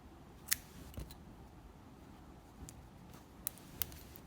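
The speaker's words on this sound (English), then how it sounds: "So white, let me cut off." Scissors snipping white yarn during crochet work on a penguin/snowman jumper, a few sharp quiet cuts spaced across a near-silent background.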